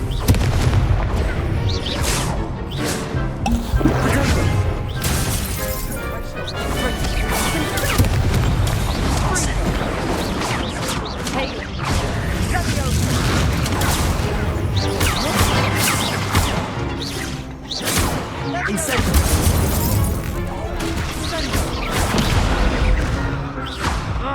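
Confringo fire spells explode in Hogwarts Legacy, repeated booming blasts and whooshes packed into dense, loud game audio that continues without a break.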